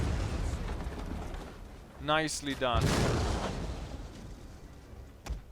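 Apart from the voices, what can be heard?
siege shots hitting, mangonel destroyed in Medieval Kingdoms 1295 game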